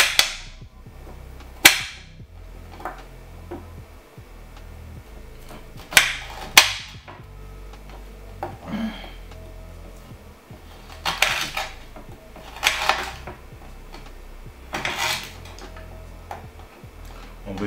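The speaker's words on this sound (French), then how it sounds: "On va essayer de couper directement les gingembre, la même quantité en fait, hein, directement dans le bocal." A knife cuts ginger straight into a glass jar, giving sharp, irregular clicks and knocks with gaps of quiet between them and faint background noise.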